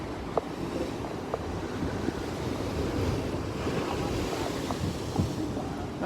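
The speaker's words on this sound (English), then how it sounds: "listen to the sea behind us" Sea waves rumble and wash continuously against rocky coastal cliffs near Sydney ocean pools on an early morning walk, with wind buffeting the microphone and a few small knocks, no talking.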